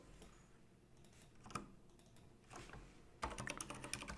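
Rapid keystrokes on a computer keyboard while entering a password, with sparse clicks early on and a dense burst of typing near the end, close and fairly quiet, with no voices.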